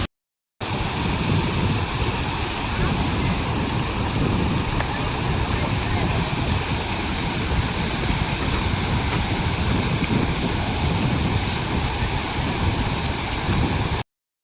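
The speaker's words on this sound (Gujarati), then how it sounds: "આ છે પાણીનો બહાવ" Rushing floodwater flows through flooded farmland, a loud, dense, unbroken roar of churning water close by, steady from start to end.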